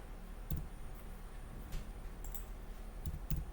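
Computer keyboard keys pressed in a few sparse, light clicks against a quiet background hum, close by with no talking.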